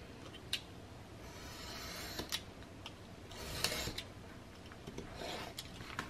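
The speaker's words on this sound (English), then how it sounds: "then I'm going to continue to cut all of these things apart" Several scattered snips and rubbing scrapes from cutting small pieces apart, quiet and close, with gaps between the cuts.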